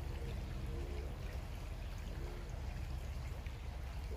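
Creek water runs through a sluice fitted with V matting, a faint continuous trickling and gurgling flow, steady and unbroken with no voices.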